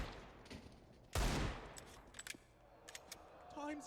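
A single loud blast of Desert Eagle pistol fire in a video game rings out mid-clip, followed by scattered smaller clicks and shots under quiet commentary.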